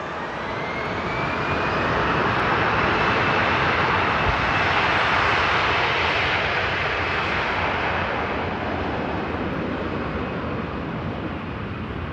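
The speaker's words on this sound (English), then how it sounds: "Lufthansa Cargo 321s are just something else." A Lufthansa Cargo Airbus A321 roars past at Frankfurt Airport, a loud, broad jet rumble swelling to a peak mid-pass and holding steady before slowly easing, with no voices.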